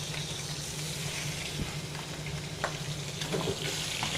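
Pork chops sizzle steadily in a pan with the heat just shut down, a continuous close frying hiss broken by a few faint clinks and stirring scrapes, with no talking.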